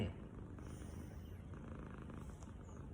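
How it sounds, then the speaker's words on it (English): A cat purring steadily and quietly, a low continuous rumble held close for a few seconds without any voices. "Got a neighborhood cat up here."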